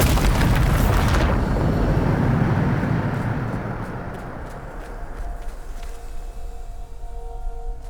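A Bombarda spell explodes in Hogwarts Legacy: a loud, near booming blast bursts at the start, then rumbles and decays into a lower debris-like roar over several seconds, with no talk.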